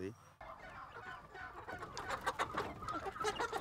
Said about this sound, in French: Nous avons une poule bicyclette qui nous est dans Bénin.